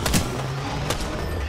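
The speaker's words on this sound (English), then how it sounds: "Shots fired at me." Gunshots in the video game Apex Legends, a few sharp separate bursts of gunfire with short gaps between them, heard during a fight, with no talk in this stretch.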